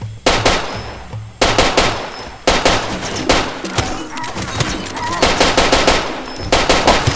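Automatic weapon fire in the video game Far Cry 2: loud, close bursts of rapid gunshots, three long volleys separated by brief pauses, with no talking over them.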